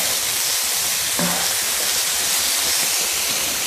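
Scallops and mixed vegetables sizzle on a hot griddle, a steady broadband hiss of frying that holds evenly throughout, with a brief faint clink near the start and no talking.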